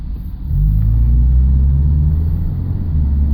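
A 2000 Subaru Legacy with low engine power revs under partial throttle while climbing a hill, a loud, steady low rumble that rises at the start and holds.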